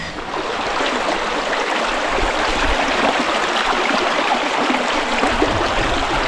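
A cold mountain stream rushes near a waterfall, a steady, loud, close wash of flowing water that continues without a break and has no talk over it.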